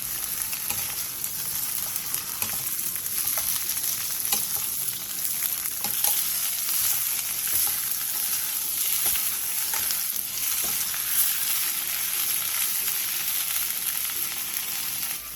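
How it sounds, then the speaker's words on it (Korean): Washed aged kimchi stir-frying in oil in a pan over medium heat, giving a steady, even sizzle that holds throughout with faint scraping, no voices. "팬에 기름을 두른 뒤 씻은 묵은지를 넣고 중불에서 5분 정도 볶아주세요."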